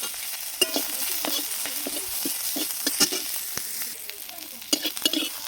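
Onions dropped into hot oil for a fish curry masala sizzle and crackle steadily, with repeated scraping and stirring strokes in the pan, close and clear with no talk.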